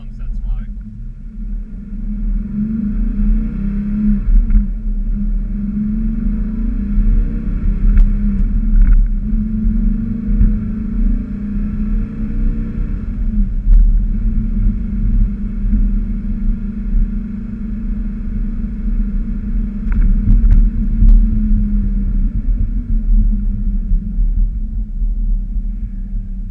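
A 1968 Porsche 911T engine rumbles steadily from inside the cabin as it drives over a rough construction-damaged road, with low thumps and bumps throughout.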